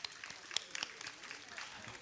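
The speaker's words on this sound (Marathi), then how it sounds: "त्यांच्यासाठी एकदा जोरदार टाळ्या होऊन जाऊ द्या" Fairly faint, scattered clapping from an audience at a Diwali Pahat 2024 morning event, with a few sharper claps rising briefly above a soft crowd murmur.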